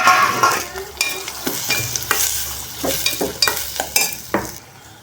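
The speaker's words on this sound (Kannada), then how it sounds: "ಉಳ್ಳಾಗಡ್ಡೆ ಹಸಿ ವಾಸನೆ ಹೋಗೋವರೆಗೂ ಚೆನ್ನಾಗಿ ಫ್ರೈ ಮಾಡ್ಕೋಬೇಕು" Onions sizzling with ginger garlic paste in a pan for potato fried rice, loud and close, with frequent scraping strokes of a spatula in an uneven rhythm.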